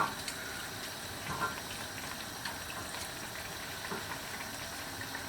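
Leftover vegetable cooking water bubbles in a pot on the stove, a steady low rolling boil with a soft wash of noise and no voices.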